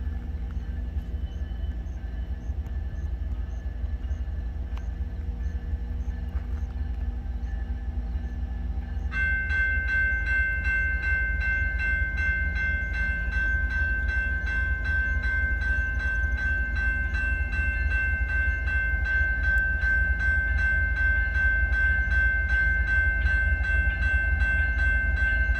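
A northbound CN freight led by locomotive 3912 near Ladysmith slowly accelerates, its diesel rumble steady and low while a bright engine tone swells in partway through and holds, with no voices.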